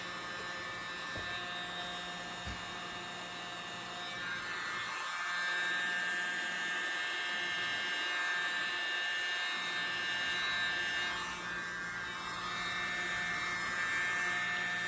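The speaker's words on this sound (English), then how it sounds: "I love my little blow dryer." A small blow dryer runs continuously while drying a paint pour, a steady whirring hum with a faint high whine, its tone shifting slightly as it moves, with no talking.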